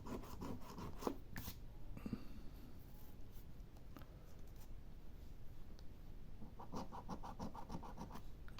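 Coin or fingernail scraping the coating off a French scratch-off lottery card, quiet close rasping strokes in short rhythmic bursts with pauses between them.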